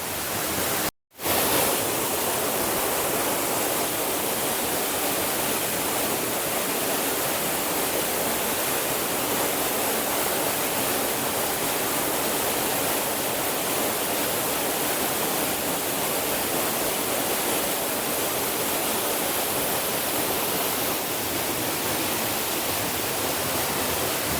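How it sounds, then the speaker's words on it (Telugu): Edubavula waterfall pours with a dense, steady roar of rushing water, loud and close, continuous except for one brief dropout near the start, with no voices. "ఇది అసలు కారణం ఏడు బావుల జలపాతం"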